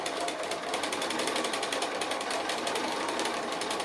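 Sewing machine stitching fabric applique: a continuous fast, even needle rattle, steady and fairly faint, with no voices.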